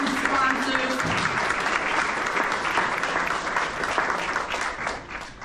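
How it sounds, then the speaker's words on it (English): Sustained applause from an audience honoring sponsors at an Urban League scholarship event, dense and steady clapping for about five seconds with a brief voice at the start, tapering slightly at the end. "So let's give them a round of applause."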